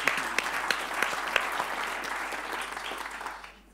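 Audience applause in a conference forum room, a dense wash of many hands clapping with a few sharper claps standing out, holding steady then fading away near the end.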